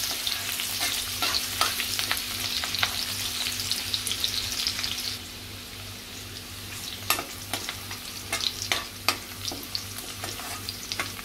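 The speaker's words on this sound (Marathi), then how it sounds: "अगदी अर्धा मिनिटच लसूण परतून घ्यायचं आहे, जळून द्यायचं नाही" Crushed garlic sautéing in a pan, giving a steady close sizzle broken by repeated sharp stirring clicks and scrapes that grow sparser after the midpoint.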